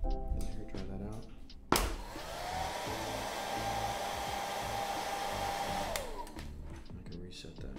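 A hair dryer blasts onto fresh paint on a painting surface, switching on with a sharp click and blowing as a loud, steady roar for several seconds before cutting off. A few quiet handling sounds come before and after.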